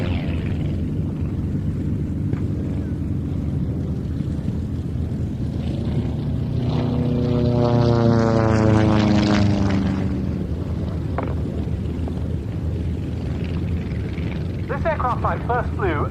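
A Cosmic Wind light racing aircraft with a 100-horsepower Continental O-200A engine flies past at a flying day, its propeller drone rising and falling as it passes, under steady commentary from someone speaking throughout.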